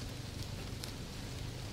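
Rain falls steadily on grass and the dark waters of a lake, a soft, even hiss with faint patters scattered through it.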